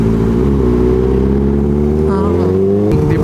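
A Kawasaki ZX-4RR motorcycle engine drones loudly and steadily during a ride near Tagaytay, pitch rising and falling slightly as it revs, dominating throughout.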